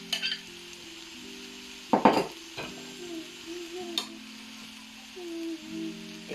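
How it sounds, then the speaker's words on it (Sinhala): Prepared chicken dropped into a hot pan for chow mein, a short burst of clatter and sizzle followed by quieter crackling, a few utensil clinks and a low steady hum, close by with no talking. "දැන් මම හදාගත්තු චිකන් ටික එකතු කරනවා."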